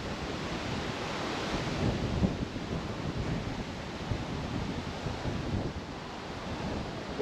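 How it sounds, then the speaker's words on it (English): Strong gale-force wind gusting across an open golf course, a steady broadband roar with blustery swells and microphone buffeting throughout, loud and close with no talk. "Little gust there, Romes."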